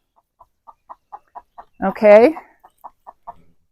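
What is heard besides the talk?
chickens clucking while a dog trains on them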